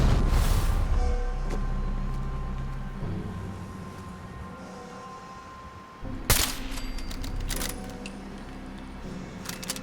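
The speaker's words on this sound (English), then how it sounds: "Gonna use my rifle because it's my strongest weapon" A rifle shot in Fallout 4 cracks sharply and loud midway, with a few short follow-up clicks and snaps amid steady game ambience.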